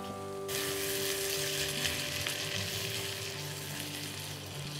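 Railway mutton curry base frying in a pan before potatoes go in, a steady close sizzle that jumps up loud after a quiet start and holds dense and even under a low background hum.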